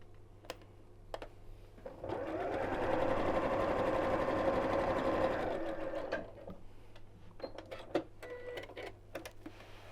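A sewing machine runs a short burst of stitching on a reversible quilt-as-you-go block, with quiet handling clicks and taps before and after the sewing.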